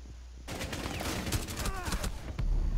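Rapid bursts of gunfire in a Rainbow Six Siege Bartlett U team deathmatch, starting abruptly and continuing as dense repeated shots, with brief voice sounds mixed in.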